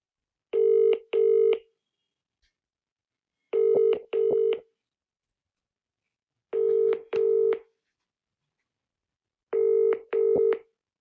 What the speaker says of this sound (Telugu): ్వరరావు గారు కూడా ఆయన బిజీగా ఉన్నట్టున్నారు, ఫోన్ లిఫ్ట్ చేయట్లేదు.